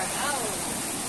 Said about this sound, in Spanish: Como pueden ver, el río está enorme, ya bajó lo que es la creciente.